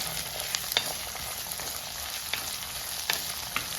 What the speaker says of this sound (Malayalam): ചെറിയ ഉള്ളി ചേർത്ത് കഴിഞ്ഞാൽ ഈ പറഞ്ഞ കണക്ക് നന്നായിട്ട് വഴണ്ട് കിട്ടണം